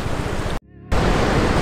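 Iguazu Falls roaring, a loud, dense broadband rush of falling water heard close, briefly cutting out for a moment before resuming at full strength, with no talk.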